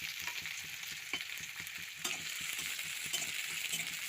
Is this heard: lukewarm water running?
no